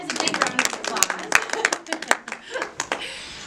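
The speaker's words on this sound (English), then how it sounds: "Give our volunteers a big round of applause." An audience at a lunar eclipse program claps for the volunteers, a short burst of sharp, scattered hand claps from a small crowd that thins out and ends within a few seconds.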